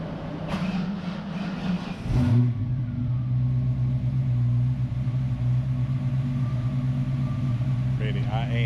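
A Ford Mustang on a dyno revs hard and then settles into a loud, sustained engine drone close by, with a person speaking over it.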